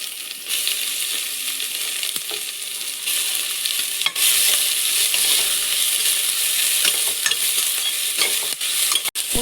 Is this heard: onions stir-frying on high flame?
yes